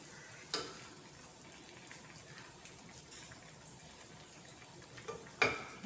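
A slotted spoon stirring boiled jackfruit with a little thick coconut milk, soft wet scraping and squishing, faint and steady, broken by a couple of light knocks of the spoon against the pot.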